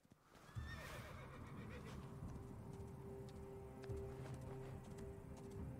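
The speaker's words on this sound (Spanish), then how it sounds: "el caballo!" In Assassin's Creed Origins, a horse whinnies sharply, then hooves drum in a quick, steady galloping rhythm that carries on throughout, fairly clear and close.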